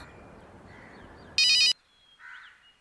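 A telephone rings in one short, loud electronic burst that cuts through a quiet room, with faint background sounds before and after.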